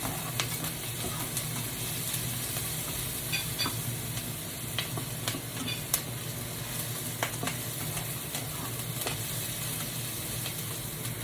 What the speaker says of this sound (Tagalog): Kunting gisa lang yung sibuyas. Tapos lagyan na natin yung kamatis.